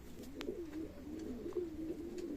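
Pigeons in a loft coo in soft, repeated rolling calls, steady and fairly close, with a few faint sharper chirps over them and no talking.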